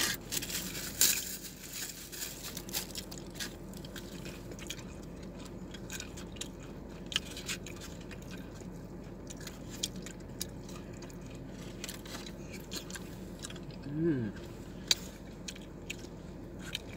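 Someone eats Popeyes red beans and rice up close in a quiet room, with soft wet chewing and occasional squishy bites at a slow, irregular pace.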